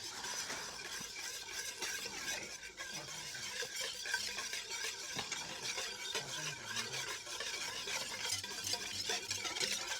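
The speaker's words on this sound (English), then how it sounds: "now let's whisk it up" Lemon is whisked into an Alabama white barbecue sauce in a bowl, giving a continuous rapid whisking and scraping texture that stays close and fairly steady throughout.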